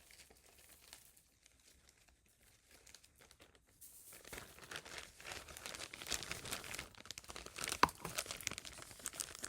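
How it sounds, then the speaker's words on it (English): Plastic bags crinkle and rustle as they are handled close by. The sound is quiet and sparse at first, then grows into denser, irregular crackling for the second half. "instead of you being bored here and watching me wrestle with plastic bags"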